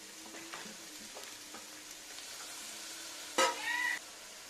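Ginger and garlic frying in a pan give a faint, steady kitchen sizzle with light stirring clicks, broken near the end by a brief louder high chirp.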